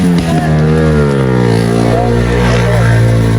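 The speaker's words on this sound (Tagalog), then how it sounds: "ingay ng motor" Motorcycle engine running close by, a loud steady drone with a slowly rising pitch as it revs, heard under people talking nearby.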